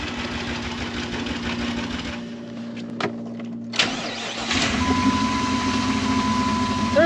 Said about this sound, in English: Certainly sounds like a misfire to me.